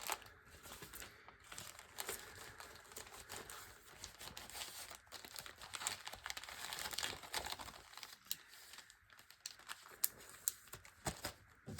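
Scrapbook paper scraps being gathered and pushed into a bag: quiet, close crinkling and rustling with irregular small crackles and taps, continuing throughout without talk.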